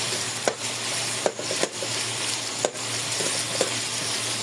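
Garlic, onions and tomatoes stirred in a pan for pakbet, with a steady low sizzle under several sharp scraping knocks of a utensil against the pan, close and moderately loud, no talking.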